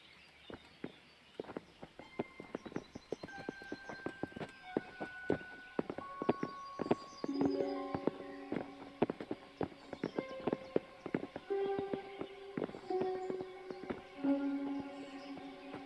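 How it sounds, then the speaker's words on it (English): Horses' hooves in the video game Kingdom Come Deliverance: a steady walking clip-clop of several close, crisp hoofbeats, with faint game music tones in the background. "Bring the horses."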